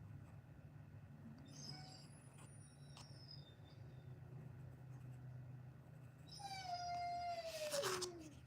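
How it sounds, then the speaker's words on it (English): A dog howls faintly in the background, a long rising and falling wail building near the end over a low steady hum, with a few brief whines earlier. "Sorry if you guys can hear my dog."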